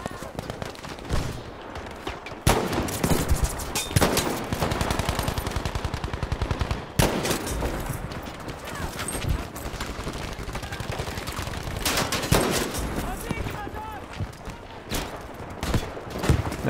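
Gunfire in Battlefield 5 on Operation Underground, bursts of rapid shots and single cracks, loud and close, with sharp bangs breaking up stretches of continuous automatic fire.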